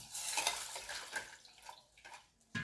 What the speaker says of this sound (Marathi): तुरडा धुवून घेऊया डाळी धुवून घेऊया